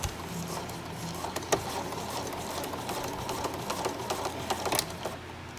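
A sewing machine stitches steadily at close range while a placemat is turned into a tote, a continuous mechanical whir broken by soft clicks and taps, with no talking.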